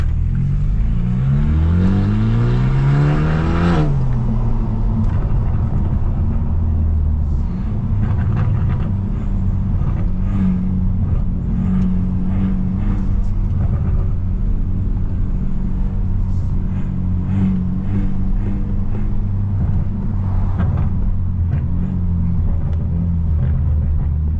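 A modified BMW F30 sedan driven hard, its engine droning loud and steady with a sweeping rev rise and drop in the first seconds, then a continuous deep rumble with faint pops scattered through the run.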